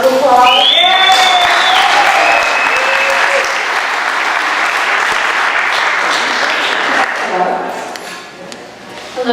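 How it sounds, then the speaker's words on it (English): An audience at a community town hall meeting applauds in steady, dense clapping that holds for most of nine seconds before thinning out, with a voice speaking over the start and a few scattered shouts. "Give him a round of applause."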